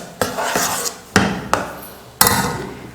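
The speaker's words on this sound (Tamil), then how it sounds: "ஏலக்காயை 2 தட்டி இதில் சேர்த்துக்கிறேன்." Cardamom pods being crushed for a sweet dish, heard as a few sharp pounding taps spaced irregularly, each followed by a brief scraping rub, close and fairly loud with no talking.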